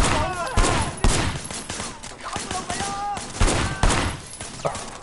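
Gunfire rattles in the Sleeping Dogs video game: repeated loud shots and bursts crack throughout, with some voice and game sounds mixed in.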